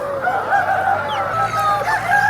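A cockerel over one and a half years old crows at a rooster market, a loud, drawn-out, strained call close by, with faint clucking around it.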